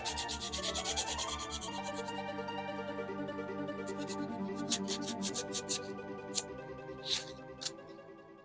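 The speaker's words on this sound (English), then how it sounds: "I've got some 220 sandpaper, and I'm going to go over it one more time." Wood being sanded by hand with fine 220 grit sandpaper to smooth it before priming and painting, a steady close rubbing scratch that carries on throughout, with a few light ticks near the end and no talking.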